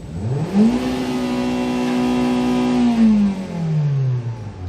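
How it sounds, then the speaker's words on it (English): Close, loud engine note from a used Kia Pride diesel hatchback with an automatic transmission as it is revved: a quick climb in pitch, a sustained steady roar, then a gradual fall back toward idle. "Let's try to accelerate and listen to the engine."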